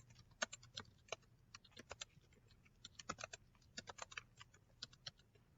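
Quiet, close typing on a computer keyboard, irregular bursts of soft key clicks with short pauses, alone without talk.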